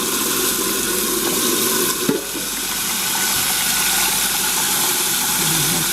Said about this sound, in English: I think I might need to put just a little more water in that